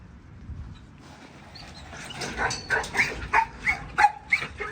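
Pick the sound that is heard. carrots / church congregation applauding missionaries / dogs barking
dogs barking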